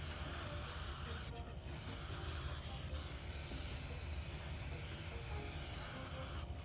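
Airbrush spraying Mission Models metallic paint, a steady close hiss of air and atomized paint running throughout with two brief breaks.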